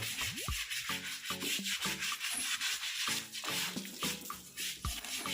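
A baby elephant's body is scrubbed during its bath, giving steady rubbing and sanding strokes at close range alongside dripping, running water, with no talking.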